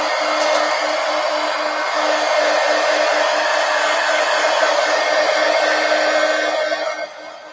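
A hair dryer blows steadily to dry paint on an altered book page, a loud, even whooshing hum for several seconds before it cuts off near the end.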